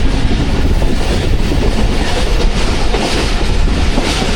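A Pakistan Express passenger train slows on its rails in steady, loud rumbling wheel noise with faint clickety-clack, heard from aboard on an early rainy morning near Suhawa between Rawalpindi and Wazirabad, without any talk.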